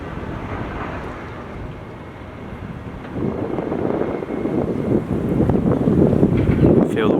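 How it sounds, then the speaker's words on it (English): Wind gusting through huge gaps in the walls of the abandoned Lackenby steelworks, a steady broad roar that builds and grows louder toward the end, with no voices. "Feel the wind coming in through these huge gaps."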